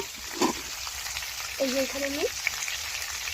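Fish frying in a pan over a clay stove makes a continuous close sizzle, with a short tonal squeak and a few faint knocks over the bubbling hiss.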